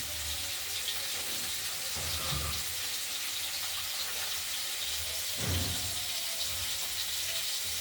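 Cut green beans are rinsed under a running kitchen tap, a steady broadband splashing hiss with a few soft handling knocks from the sink, close by and with no voices.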